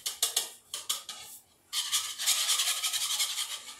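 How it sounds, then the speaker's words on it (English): Two eggs are whisked in a bowl, giving rapid, bright clinking strokes against the side. The whisking comes in short bursts, pauses briefly, then picks up again in a faster, steady run, close and fairly quiet. "I've got 2 eggs in here. I'm just going to give them a little whisk to start."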